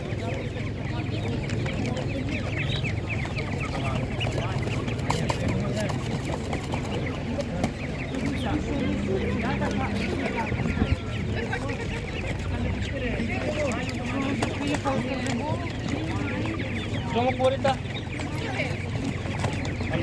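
Master Grey chickens clucking steadily throughout a busy, noisy outdoor animal market, with a constant low background din and occasional voices.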